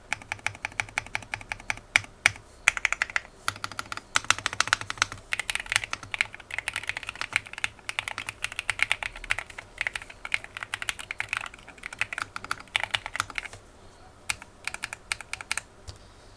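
Someone types on a GMK67 mechanical keyboard fitted with lubed Akko Yellow Pro V3 switches, producing dense, close keystrokes in a steady, rapid rhythm with occasional louder presses, alone with no talking.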